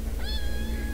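A kitten gives a single short, close meow that rises and then trails off, with no talking over it.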